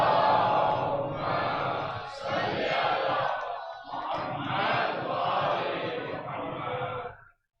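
A congregation at a Ramadan mehfil recites salawat together, a loud massed chant of many voices in two long unison phrases with a short pause between.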